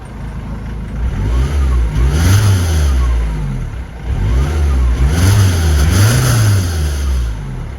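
A big petrol V8 car engine revs repeatedly, rising and falling in two strong cycles of throttle blips against a steady idle rumble, loud and close with no talk.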